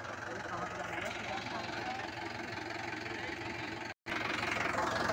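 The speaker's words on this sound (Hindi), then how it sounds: "ये देखिए कितनी अच्छी आवाज है इसकी बहुत बढ़िया ट्रैक्टर लगा मुझे तो ये" A steady diesel tractor engine idles close by with a rhythmic knocking chug, briefly cutting out near the end before resuming.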